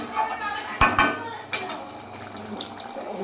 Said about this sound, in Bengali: তারপরে ডিমের ঝোল রান্না হচ্ছে